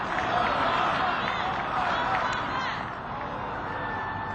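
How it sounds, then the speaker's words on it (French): A huge outdoor crowd at Barack Obama's presidential inauguration roars and chants in a sustained, distant wash of massed voices, swelling and then easing slightly toward the end. "Vous entendez la foule scander."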